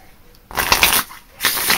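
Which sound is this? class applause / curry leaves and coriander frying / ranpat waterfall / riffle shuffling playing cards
riffle shuffling playing cards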